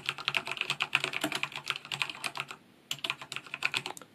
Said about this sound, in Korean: 이런 식으로 타이핑을 하는데 강하게 치지 않고 일반적으로 쳤을 때 소음이 상당히 적은 편이라서